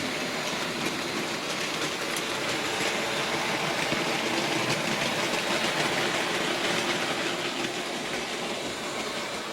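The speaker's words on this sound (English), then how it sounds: "the tank loco runs very nicely, even if I can't get these wagons to stay coupled" A Hornby Dublo OO gauge 3-rail model tank locomotive runs steadily on track, giving a continuous close whirring rumble with faint rail clatter throughout and no voices.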